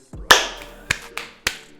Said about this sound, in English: There is a clap that goes like